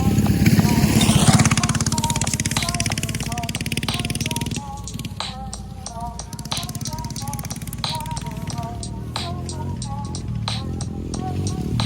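A Coleman BT200X minibike fitted with a Predator 212 Hemi engine runs close by, its engine note loud and buzzing, first revving high, then settling into a lower, uneven throb. A voice speaks over the engine.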